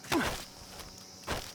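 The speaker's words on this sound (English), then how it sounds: "I hear footsteps." Two soft footstep impacts in Metal Gear Solid 3, a quick pair near the start and another after a pause, separated by near silence, with no talk.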